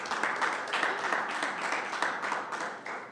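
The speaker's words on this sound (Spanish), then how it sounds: "Un fuerte aplauso para nuestra moderadora estrella" An audience at a university session applauds with moderate, steady clapping that ripples unevenly for a few seconds in a room.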